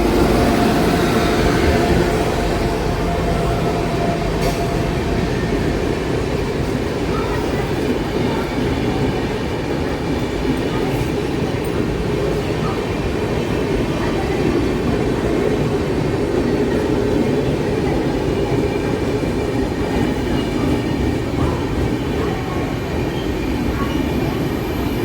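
Aboard the Dhanbad to Mumbai LTT summer special train, which runs with Humsafar coaches, a loud constant rumble of rolling wheels and carriage noise continues throughout, with faint rhythmic clatter and no talking.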